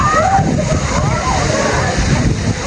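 Water pours and splashes at Laswitan Lagoon on the rocky coast of Surigao del Sur, a loud, continuous rushing and sloshing close by, with voices talking over it.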